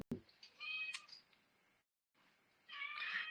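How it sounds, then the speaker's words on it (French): A house cat meows close by in a quiet room, two drawn-out cries separated by a brief silence, the second louder and more insistent. "C'est ton chat"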